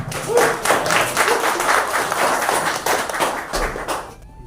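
An audience claps together at a parish Bible-study recollection gathering at the Roh Kudus Cathedral in Denpasar, giving a steady, dense burst of applause that holds for about four seconds before fading out.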